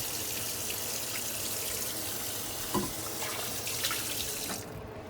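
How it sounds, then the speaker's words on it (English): Tap water runs steadily into a sink while a spoon is washed under it, a close, even splashing hiss that cuts off near the end. "Give my spoon a quick wash."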